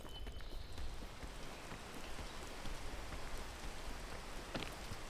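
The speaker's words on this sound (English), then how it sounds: "It's raining, but I'm getting up." Steady rain falling in the video game PEAK, a dense continuous patter of drops with scattered sharper splashes, even in loudness throughout and with no voices.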